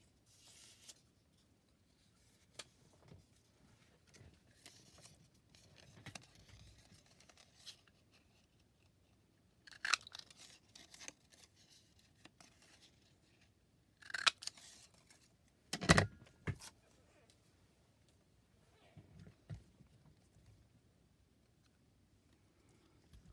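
A paper circle punch cuts through scrap photo paper: soft rustles and light taps lead to a few sharper clicks and clunks, the loudest near the end, all close and quiet in an otherwise silent craft room.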